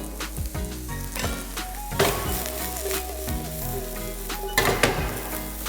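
Celery and mushrooms sizzle while frying in a pan, a steady hiss broken by clinks and scrapes of a utensil stirring against the metal.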